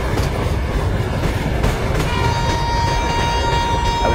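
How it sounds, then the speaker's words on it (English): A Chennai–Nizamuddin Rajdhani Express passenger train runs at speed, giving a steady, loud rumble of wheels and carriages with rhythmic rail clatter and a faint sustained tone that rises partway through. "So let's speed up the train."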